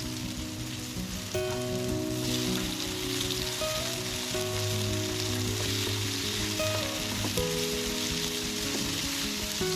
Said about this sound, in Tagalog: And after po ng ating tokwa, ilagay naman natin ang ating kamatis.